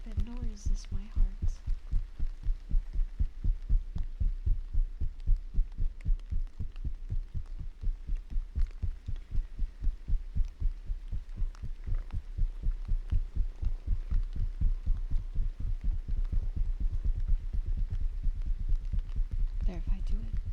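Fingers patting on top of a microphone in a steady, close, thumping rhythm that imitates a heartbeat, with soft repeated low thuds continuing for the whole stretch.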